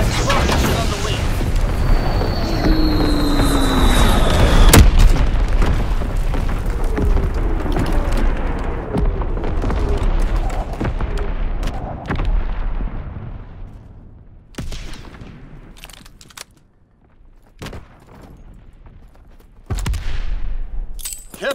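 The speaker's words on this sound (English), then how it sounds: "Firing primary battery." Naval battery artillery fire in the WWII-set game Call of Duty: WWII lands as heavy booms and a dense rolling barrage, loud at first and then thinning into scattered distant blasts, with game voice lines mixed in.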